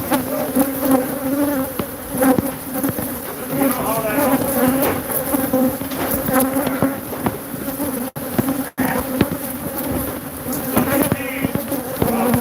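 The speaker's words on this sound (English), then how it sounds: "So we are doing a bee hunting removal." Dense, steady buzzing of a large wild bee colony during a removal as comb is being cut out, a loud continuous drone with brief dropouts and a few faint words spoken over it.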